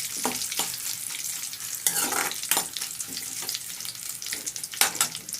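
Curry leaves crackle and sizzle as they fry in hot oil for a mango pachadi tempering. A steady hiss is broken by irregular sharp pops and spatters, close and fairly loud, with no talking.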